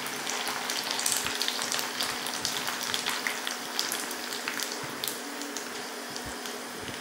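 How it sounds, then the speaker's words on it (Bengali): Store-bought fuchka puris deep-fry in hot oil until golden, giving a steady, close, continuous sizzle and bubbling with no voices. "এই ফুচকাগুলিকে ভেজে নেব। একটু গোল্ডেন কালার করে করে ভাজতে হবে।"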